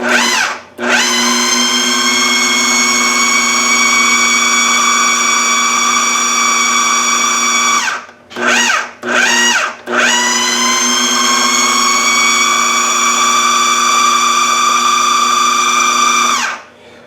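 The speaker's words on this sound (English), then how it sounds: "here we have it after just that short a spinning period in the food processor" A food processor whirs loudly and steadily, stopping briefly a few times before spinning up again, then cutting off at the end.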